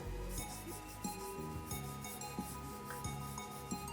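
An eraser rubbing out pencil lines on paper during a drawing of a bottle, with faint short scrubbing strokes repeating about every half second in a quiet room.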